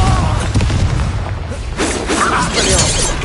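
A Confringo blast spell from Hogwarts Legacy bursts in a series of sharp shattering booms and crackling debris, loud and close, with a second heavy burst after a short lull.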